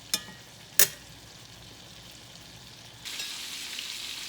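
Chicken pieces frying in a pan give a steady low sizzle after two brief sharp clinks, the hiss rising noticeably louder toward the end, with no talking.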